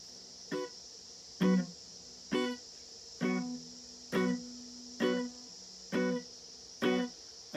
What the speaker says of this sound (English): what I wanted to talk to you about is the stock standard Reggae Strum